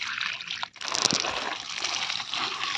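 Water is poured onto basale (Malabar spinach) plants in a home vegetable garden: a steady, close splashing trickle that runs throughout with a brief dip partway through.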